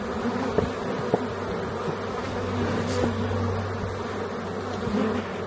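A dense swarm of honey bees drones steadily around an open hive that may be queenless, a continuous close buzz with a few faint knocks and thuds of hive work scattered through it and no talking.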